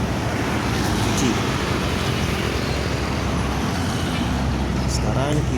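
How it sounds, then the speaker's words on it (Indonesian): Two PT Rapi Sumatran intercity buses are washed at a bus washing place, giving a constant loud broadband hiss of spraying water mixed with passing road traffic, with a voice faintly underneath. "Ini ada 2 unit PT Rapi yang masih dalam proses pencucian, dibersihkan."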